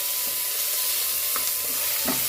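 Mutton and tomato frying in a pan, a steady loud sizzle with occasional soft stirring scrapes.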